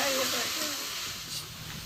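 Steady broadband hissing and steam as water is poured into a hot pan of desi Odia-style chicken with masala, loud and continuous throughout, with a faint voice briefly at the start.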